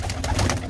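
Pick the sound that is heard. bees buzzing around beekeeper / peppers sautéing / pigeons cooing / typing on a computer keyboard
pigeons cooing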